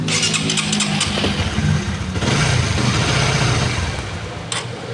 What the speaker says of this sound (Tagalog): pakinig nyo naman sa makina